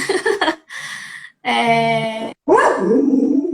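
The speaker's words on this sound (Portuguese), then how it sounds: "Então vai ter uns latidinhos de vez em quando" A small dog indoors barks at people passing by the window. Three loud, close bursts of high yapping barks come with short pauses between them.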